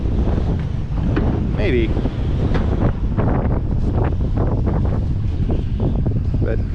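Strong wind roaring over a Stabicraft fishing boat at sea amid breaking waves, constant heavy buffeting noise with water sloshing, while people talk over it.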